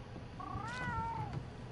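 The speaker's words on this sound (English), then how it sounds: "And look at my cat." Cat in Monster Hunter: World giving a single clear, rising-then-falling meow, close and soft over a low background hum.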